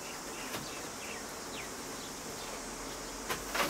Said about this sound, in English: Shake some of those bees off just so you can see the comb